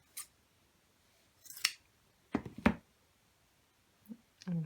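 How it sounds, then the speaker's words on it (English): Extra-large fabric scissors snip fabric for a daffodil brooch with a few short, crisp cuts spaced unevenly across a quiet room, close and fairly faint, with no talking. "I'm going to use my super big scissors"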